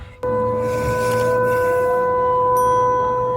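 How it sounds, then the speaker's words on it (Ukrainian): A steady, droning air raid siren wails continuously in daytime, starting abruptly and holding a sustained tone over faint background noise. "Повітряна тривога серед білого дня."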